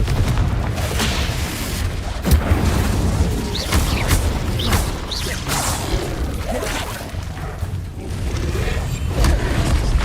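In the Hogwarts Legacy video game, the Confringo blasting spell erupts in fiery explosions. Booming blasts and whooshes follow one another without pause, loud and dense over a continuous rumbling bed.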